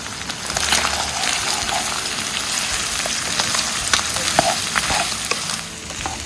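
Onion and cabbage stir-fry in a hot pan for homemade jajangmyeon, giving a steady, close hiss of frying with scattered crackles and spatula scrapes throughout, with no talking.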